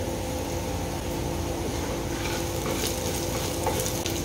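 Masala for Marathi chicken rasa roasts and fries in a pan, giving a steady, close sizzle with light stirring scrapes and no talking.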